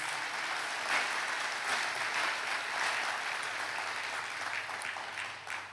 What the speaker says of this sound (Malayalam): ഒന്ന് കൈയടിച്ച് കർത്താവിനെ മഹത്വപ്പെടുത്തുക.